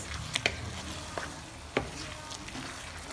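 Cooked beans being stirred into a sauce in a pot, with a soft continuous sizzle and a few sharp spoon scrapes against the pot.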